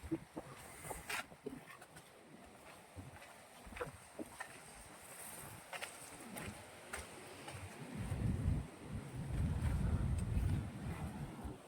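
At the seashore beside a temple at Chorwad, wind buffets the microphone while the sea rumbles, building into a deeper, louder surge of waves near the end.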